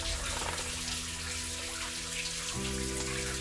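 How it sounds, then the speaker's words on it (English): Water drips and runs down inside a dark tunnel as a steady, dense spatter, close and continuous with no voices. "there's a bit of water coming down here"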